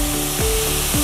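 Blended spinach goes into a hot pan and sizzles loudly and steadily, with a few scraping stirs cutting through the frying noise.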